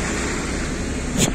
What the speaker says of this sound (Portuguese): Aquele grande caminhão.